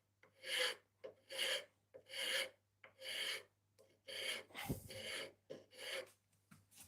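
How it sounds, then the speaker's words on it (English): A hand file rasps across a piece of wood in about eight steady strokes, each a bright, gritty scrape with short pauses between, close and fairly quiet, with a low hum underneath. "And then I'll use a file to straighten it up a little bit."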